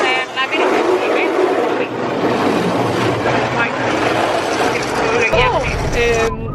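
Loud, continuous mechanical churning and rattling inside an automatic car wash, steady throughout with whirring brushes and machinery noise, while people talk faintly underneath.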